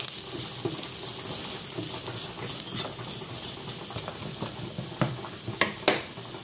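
Flour and vegetable cubes stirred together in a cooking pan, a steady soft scraping and shuffling with scattered light clinks of utensil on metal that grow sharper toward the end.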